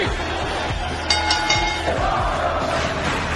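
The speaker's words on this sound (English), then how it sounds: "the crowd is going crazy" A wrestling show crowd roars wildly, loud sustained cheering and shouting with a few sharp bangs and thuds from the ring mixed in, constant throughout.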